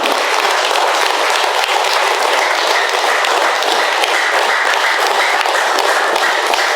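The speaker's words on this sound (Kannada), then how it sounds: "ಜೋರಾದ ಚಪ್ಪಾಳೆಯನ್ನು ಹೊಡೆಯೋದರ ಮೂಲಕ ಧನ್ಯವಾದಗಳನ್ನು ಅರ್ಪಿಸ್ಬೋದು ನಾವು" A large audience at a talk on meditation applauds loudly, giving a dense, even roar of clapping that stays constant from start to finish.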